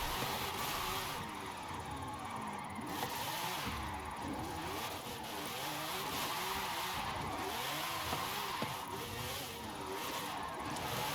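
A lightweight car of about 900 kilos in Forza Horizon 5 drives hard, its engine revving and shifting in rising and falling sweeps, loud and continuous for the whole stretch.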